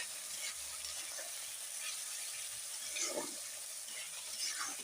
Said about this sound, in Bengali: সুন্দর করে নেড়ে দিলাম।